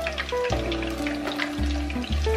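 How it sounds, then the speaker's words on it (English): Fish frying in hot oil in a pot gives a steady, close sizzle that runs the full length with no voices, while faint low tones shift in the background. "drop the fish into the pot. Fry the fish carefully."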